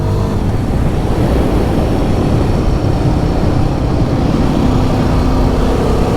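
A Royal Enfield Guerrilla 450 motorcycle ridden in performance mode gives a steady, loud engine drone mixed with rushing wind and road noise, continuous from start to finish with no talking.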